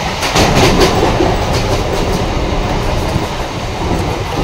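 A local train rumbles past at close range in Odisha, a loud continuous roar with rhythmic clickety-clack of wheels over rail joints throughout, no voices.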